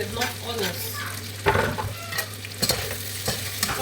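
Onions and pepper fry with fish in a pan, loud close sizzling punctuated by repeated scrapes and stirs of a spoon against the pan, with no one talking.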